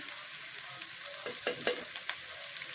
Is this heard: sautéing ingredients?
yes